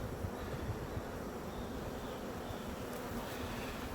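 Honeybees buzzing steadily around an opened beehive colony, a continuous, even drone of many insects close by with no talk over it.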